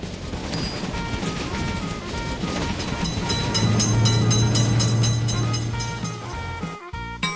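A train rumbles steadily past a level crossing in an Indian train simulator game, a continuous loud rolling roar with a sustained horn-like tone midway before cutting off abruptly.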